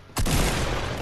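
A single sharp gunshot in Fortnite lands as a headshot, a sudden loud crack followed by a booming, ringing tail that fills the rest of the moment, with no talking.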